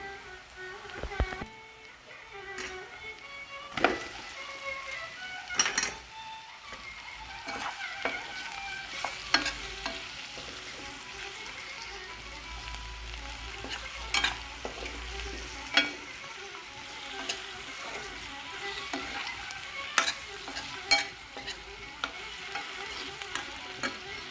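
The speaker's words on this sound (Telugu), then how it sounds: "ఇప్పుడు ఉడకబెట్టుకున్న అరటికాయ ముక్కలను వేసేద్దాం" Boiled raw banana pieces stir-fried in a pan, with a steady sizzle broken by frequent sharp scraping and clinking of a utensil against the pan throughout, close and moderately loud, no talking.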